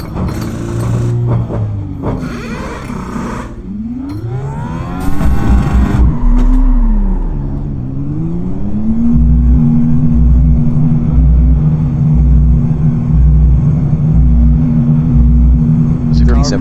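A race car engine in the iRacing sim drones steadily with a rising pitch, shifting through gears before settling into a sustained loud tone, while radio-style voices speak over it.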